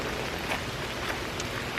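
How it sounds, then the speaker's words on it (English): Heavy rain pours steadily in a rainforest among mountains and glaciers, a dense continuous hiss of drops on surfaces with no voices. "it's like we're in a rainforest and it's raining. It's really raining."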